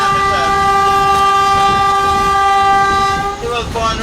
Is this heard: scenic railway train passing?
yes